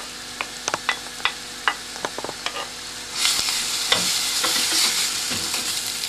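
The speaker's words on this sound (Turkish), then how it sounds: "Taze soğan maydanozumuzu ve rende patatesimizi" Grated carrot, spring onion, parsley and grated potato sautéing in butter in a pot, starting with scattered light clicks of stirring, then a steady loud sizzle with spoon scrapes.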